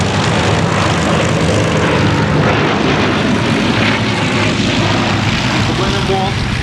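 A Bristol Blenheim Mk I twin piston-engine aircraft at an air show gives a loud, steady propeller drone that holds without a break, with a narrator speaking over it throughout.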